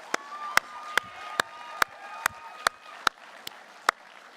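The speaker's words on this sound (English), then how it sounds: "Can we have one more round of applause for our Year 13 students?" Applause at a school graduation ceremony honoring Year 13 students comes as about ten slow, evenly spaced sharp claps standing out clearly over a faint tonal background.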